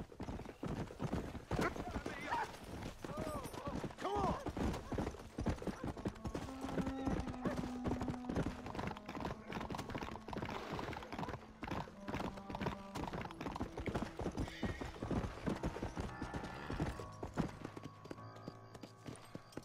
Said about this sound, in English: Where's my horse? Let me see if I can kick him.